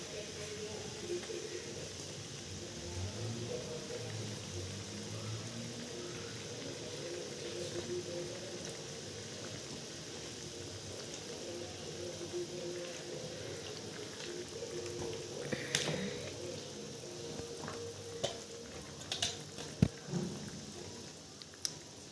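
A pot of fish curry simmers with a soft, continuous bubbling, faint and close, with a few sharper clicks and pops near the end.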